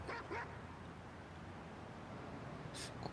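A dog in Watch Dogs 2 gives a few short barks at the start and another near the end, moderately distant over a steady low background hum.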